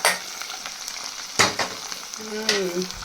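Gongura leaves frying in hot oil: a steady, close sizzle with a few sharp stirring clatters and bursts of crackle partway through.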